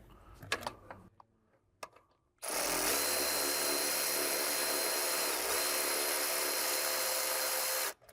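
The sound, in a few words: snugging in alternator bolt on Porsche Cayman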